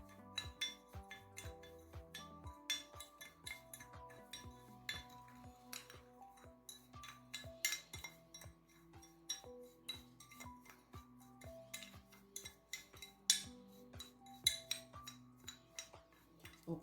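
A spoon clinks and taps repeatedly against a small dish while stirring lip scrub ingredients with olive oil, making light, irregular ringing ticks at close range with no talk.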